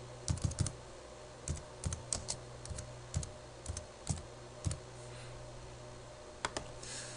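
Typing on a computer keyboard while a custom probe is named in PicoScope 6 software: irregular bursts of close, crisp key clicks with short pauses, over a steady low hum, no talking.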